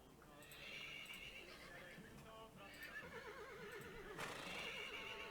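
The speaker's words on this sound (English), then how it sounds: "I think I have some horse sounds here." A horse whinnies loudly several times with shaky, trembling calls, mixed with clip-clopping hooves and some background noise.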